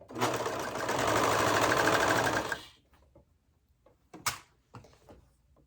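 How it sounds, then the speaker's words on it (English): A sewing machine with its trimming knife engaged stitches a seam on a monkey bar skirt, running loud and steady for under three seconds before stopping, followed by a few faint handling clicks. "So I'm going to go ahead and sew this seam."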